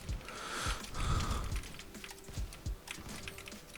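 Computer keyboard keys pressed during a mouse test in a game, a quick irregular run of close, crisp clicks and taps, some in bursts, with no talking.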